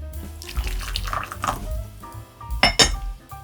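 Hot water splashes and trickles over ceramic teaware, with light clinks of cups and pots, close and fairly quiet.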